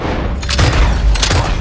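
Double-barrel shotgun blasts in Red Dead Online, two heavy booming shots about half a second apart, loud and close, with a short rumbling tail.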